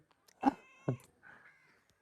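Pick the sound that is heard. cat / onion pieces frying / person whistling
cat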